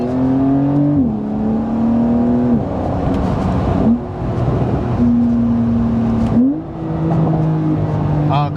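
A Porsche 911 Carrera S of the 992 generation with an eight-speed gearbox, its loud exhaust droning and revving up and down through several gear changes, close and steady for the whole stretch.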